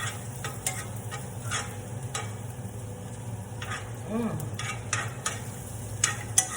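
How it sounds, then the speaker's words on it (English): Chopped cabbage fries in a pan with a soft, continuous sizzle, broken by scraping and clicking as it is stirred at irregular intervals, close and quiet with no talk. "I'm going to add some cabbage to this."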